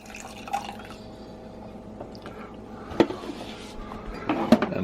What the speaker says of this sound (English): pour just a little bit in this coffee cup here